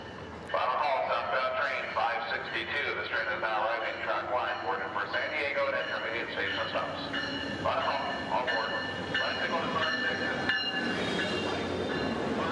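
An Amtrak Surfliner passenger train travels toward San Diego with a continuous rumbling, rattling run throughout, and other busy sounds layered over the ride.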